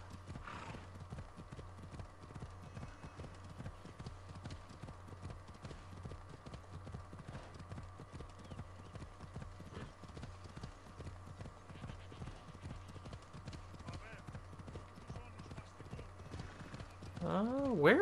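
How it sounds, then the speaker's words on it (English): Steady rhythmic clip-clop of a galloping horse in Assassin's Creed Odyssey, continuing throughout over a low hum, with a brief whinny near the end. "Glad we had this horse."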